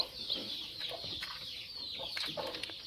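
A batch of newly hatched gavran chicks peeping in a dense, continuous chorus of high cheeps, close and steady, with light rustling among them.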